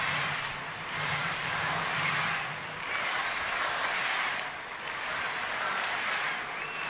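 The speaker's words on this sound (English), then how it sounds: "Crowd trying to keep things going here." A baseball stadium crowd during the bottom of the eighth inning of a Cincinnati at Washington game, a fairly faint, distant wash of cheering and clapping that swells and eases in waves.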